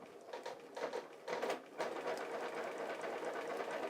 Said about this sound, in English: I sew along straight here with my foot against this line